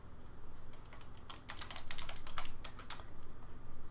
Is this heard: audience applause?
no